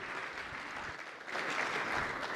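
Keynote audience at a tech summit in Bahrain applauds to welcome a company founder and CEO to the stage, a soft continuous patter of clapping that swells slightly partway through.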